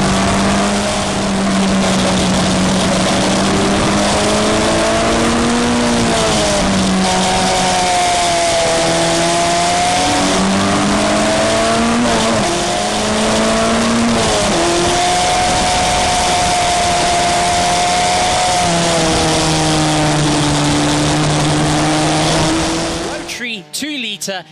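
Rotary 2-litre and modified 2-litre race cars racing at RedStar Raceway, loud engines droning and shifting pitch as they rev and change gears, with a race commentator talking over the noise throughout.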